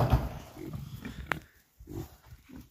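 A pig being pulled out of its pen for the Phulpati day of Dashain grunts in short, close bursts, with a sharper squeal partway through and brief gaps between the calls.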